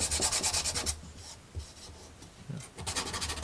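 Sandpaper rubbing back and forth over a wooden book nook cabin piece, with quick rasping strokes in bursts, a pause, then more strokes close by.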